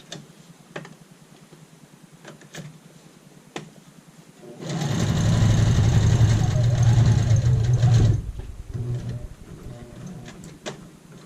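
A sewing machine stitches an apron in a short burst of fast, loud mechanical chatter lasting about three seconds, framed by quieter handling clicks and taps before and after.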